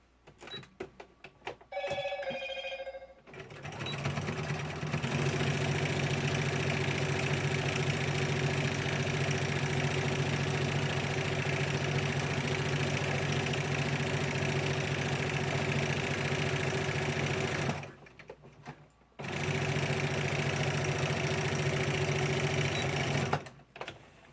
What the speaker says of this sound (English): So now it's all stitched down